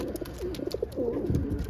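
Racing pigeons cooing softly inside a loft, several low warbling coos overlapping in a steady murmur close by, with no talking.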